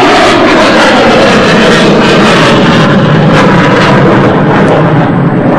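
A MiG-29 fighter jet flying past during a slow-speed handling display at a Victory Day parade produces a loud, sustained, rumbling engine roar that fills the whole stretch.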